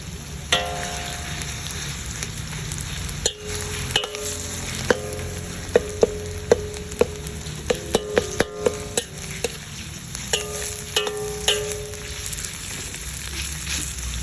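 Ground meat dropped into a pan with browned garlic and onion fries with a loud, steady sizzle, broken by repeated sharp clinks and scrapes of a spatula stirring against the pan, with no talking.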